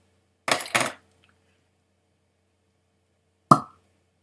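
A synthetic cork with a wood top is pulled from a bottle of Glen Saanich single malt Canadian whisky, giving two quick squeaky pulls followed by a sharp pop a few seconds later, close and clear in a quiet room.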